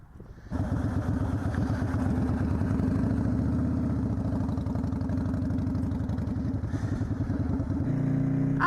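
Motorcycle riding along a road in spring: a steady, loud, close engine drone with rough low throb that holds for several seconds, then shifts to a smoother lower tone near the end.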